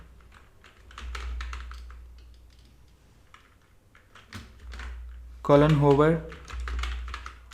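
Computer keyboard keys clack in quick irregular bursts while someone types code for a CSS slider, the tapping running under someone speaking Hindi throughout.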